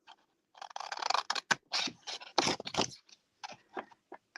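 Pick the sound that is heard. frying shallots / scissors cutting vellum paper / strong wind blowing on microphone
scissors cutting vellum paper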